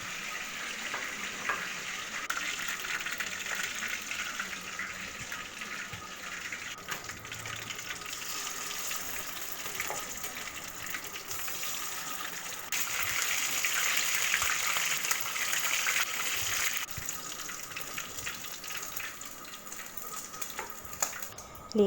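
Chicken legs fry in hot oil for a masala fry, making a long, steady, fairly quiet hiss that swells slightly midway, with no talking.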